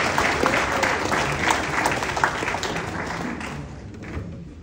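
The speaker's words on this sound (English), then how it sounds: "let's give him a round of applause." An audience at a high school football awards banquet applauds, a dense burst of clapping that starts loud and gradually thins and fades over a few seconds.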